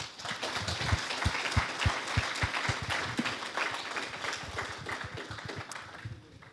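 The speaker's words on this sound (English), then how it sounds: "Massive round of applause." Sustained applause from a crowd at a Muslim community service awards event at East London Mosque, dense clapping holding steady and then gradually thinning toward the end.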